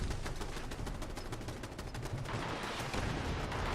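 Rapid turret gunfire rattles continuously at an all-foundation CAMP in a Fallout 76 custom-world PvP match, a dense, steady stream of shots with no talking over it.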